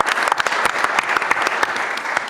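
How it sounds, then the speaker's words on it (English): Audience applause at a Newport Mesa Unified School District candidate forum, a dense steady clapping from a crowd that holds for the full stretch with no talk over it. "big round of applause"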